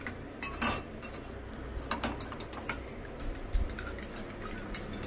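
A spoon stirs lemon and honey into a cup of green tea, tapping and clinking against the glass in scattered light knocks, close and fairly quiet with no talk.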